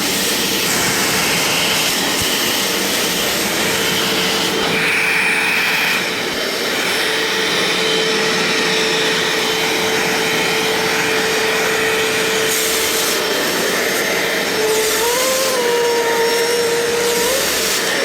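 A Bissell Little Green ProHeat portable carpet cleaner runs steadily with a loud, continuous motor whine and suction roar that holds for the whole stretch, with slight shifts in pitch near the end and no talking.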